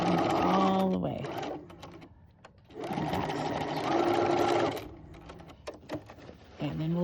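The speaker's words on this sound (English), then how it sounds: "make sure you sew all the way to that fold" Sewing machine stitching a seam right up to the fold: a close, steady mechanical whir in two long runs with a short pause between, followed by quieter handling clicks.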